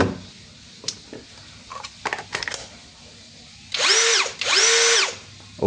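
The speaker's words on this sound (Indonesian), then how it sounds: "Bor Corolla." A Corolla brushless 21V cordless drill runs in two loud, sustained bursts, each whining up in pitch, staying steady, then dropping off, after a few brief clicks and knocks of handling.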